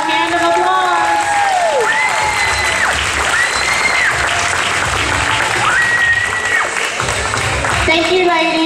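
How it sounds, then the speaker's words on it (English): A crowd at a pageant applauds the contestants loudly and continuously, with cheering, whistles and a few voices rising over the clapping throughout. "Let's give them all a hand of applause."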